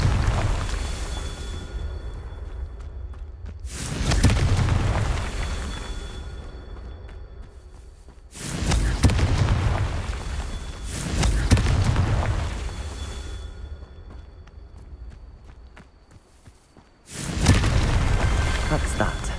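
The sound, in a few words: explosion from Confringo spell in video game Hogwarts Legacy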